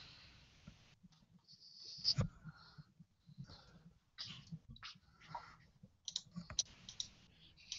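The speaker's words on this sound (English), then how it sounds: "It was real quiet and just the clicking of keyboards." Keyboards click quietly in a still room, with scattered soft taps and a few sharper clicks spread irregularly, and faint low murmurs beneath but no clear speech.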